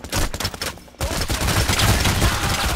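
Rapid gunfire in the heist shooter Payday: The Heist, a burst of shots, a short near-silent gap, then sustained dense volleys of loud automatic fire crackling continuously to the end, with no voices over it.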